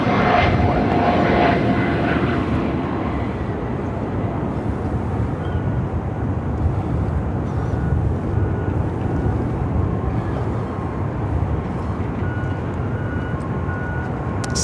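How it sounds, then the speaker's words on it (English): A DHL Boeing 767 converted freighter approaches at Phoenix Sky Harbor (PHX), its jet engine roar loud and continuous, swelling and sustained with broadband rumble throughout and no speech. "See a DHL converted 767 heading our way."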